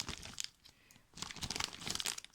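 Crinkly plastic packet of artificial sweetener from a US military MRE handled up close, giving bursts of crisp crumpling with a short quiet pause in between.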